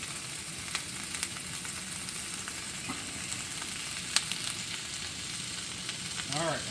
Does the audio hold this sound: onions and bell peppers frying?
yes